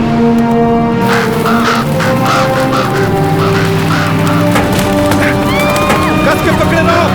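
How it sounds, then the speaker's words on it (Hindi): Crows caw repeatedly amid a dense, loud mix of music and ambient sound in a tense horror-movie scene, the harsh calls rising over the background in rapid succession. "वो कौवे ऐसा क्यों कर रहे हैं वेन?"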